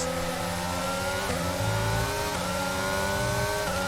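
Formula One cars in the F1 22 racing game at the São Paulo Grand Prix, engines screaming at high revs with steady rising and shifting pitch, loud and continuous throughout.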